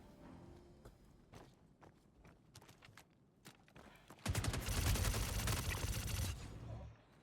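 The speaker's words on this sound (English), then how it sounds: "Machine guns out here today." Star Citizen machine gun fire: scattered single sharp cracks and footstep-like taps at first, then a loud sustained burst of rapid automatic fire for several seconds before cutting off.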